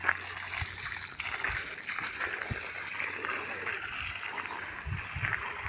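Water flowing and sloshing into a muddy planting pit around a newly planted 15-foot mango tree, a steady close splashing with occasional thuds, while people talk nearby.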